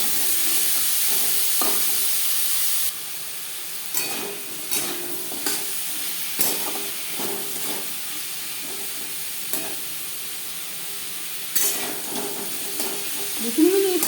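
Jute leaves seasoned with salt and a little turmeric are stirred in a pan over a gas flame, giving a steady broadband sizzle with scattered scraping and spatula knocks, fairly close and with no voices.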